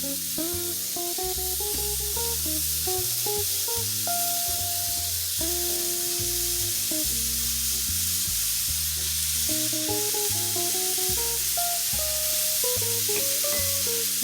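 Steady sizzle of ground beef frying in a pan runs throughout, nearly masked by a loud melodic music bed with plucked notes; no talking.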